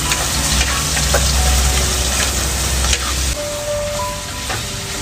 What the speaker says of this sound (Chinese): 这爆炒啊，肉熟得快